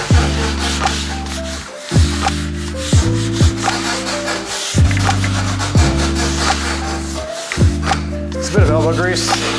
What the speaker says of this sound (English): we'll rub this whole thing down with some steel wool and we'll take off the excess